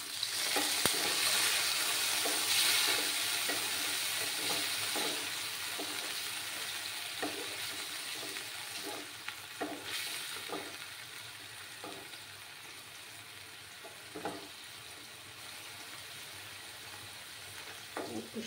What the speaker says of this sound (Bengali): একটু সময় আমি হালকা করে পনিরগুলোকে ফ্রাই করে নেব